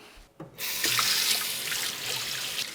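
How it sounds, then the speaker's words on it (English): Water runs steadily from a kitchen tap as hands are rinsed beneath it, a close, continuous splashing flow that starts after a brief pause and carries on alone. "let me rinse my hands"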